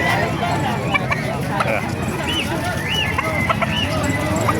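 Gamecock breeding-line chickens, eight months old, cluck and call in short bursts across a farm yard in Calumpit, Bulacan, with people talking nearby throughout.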